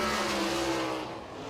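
Sprint race cars roar around the dirt oval at Eldora Speedway during qualifying, a loud, continuous engine howl with tire noise that fades slightly as a car passes, with no talking over it.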